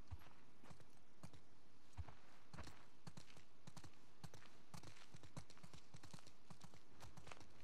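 Horse hooves clip-clop steadily in The Last of Us Part II, a faint, irregular walking rhythm of several animals on the ground, with quiet ambience behind and no clear talk.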